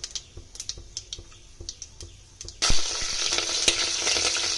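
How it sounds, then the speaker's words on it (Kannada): Cumin, mustard seeds, peppercorns and cloves go into hot oil for veg pulao: sparse sharp pops at first, then a sudden loud, dense crackling sizzle that stays close and steady, no voices. "ಸ್ವಲ್ಪ ಜೀರಿಗೆ, ಅದು ಚಟಪಟ ಅಂತ ಅನ್ನುತ್ತೆ."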